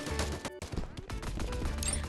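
Rapid gunfire from a mobile FPS shooter game, Fire Warrior II, crackles in dense bursts with brief gaps, loud and close, ending in a sharp louder hit.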